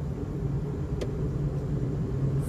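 A car reverses slowly up a small hill, its engine giving a steady low rumble with a brief click midway, close and even throughout without speech.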